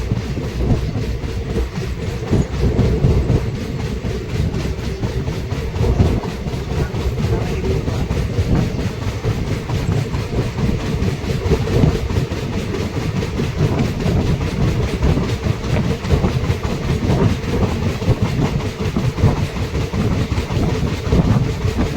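Sahid Express train running on rails near Bardhaman, a continuous loud rumble with steady clickety-clack of wheels heard from inside the carriage, no voices.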